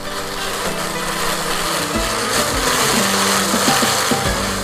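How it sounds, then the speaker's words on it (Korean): Kitchen blender grinding grape skins into a fine purée, a loud continuous motor whine with rough churning that shifts in pitch as the load changes, running alone without talk. "포도 껍질을 믹서에 넣고 곱게 갈아줍니다."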